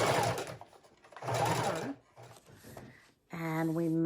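A sewing machine runs a straight stitch down a junk journal page to attach a pocket, its steady whirring hum starting abruptly near the end after a stretch of close talking.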